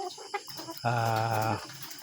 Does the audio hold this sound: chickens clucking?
yes